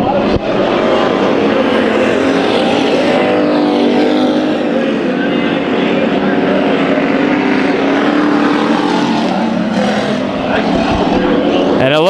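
Race cars roar around the Bakersfield Speedway track during a heat race, a loud continuous engine din from several cars with pitch shifts as they pass, under a race announcer's commentary.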